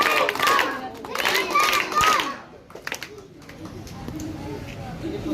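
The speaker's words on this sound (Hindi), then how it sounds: "इसलिए आप अपने लिए ताली बजाएंगे" Children clapping together in a group, a burst of close, loud claps in the first two seconds, then quieter scattered sounds with voices in the background.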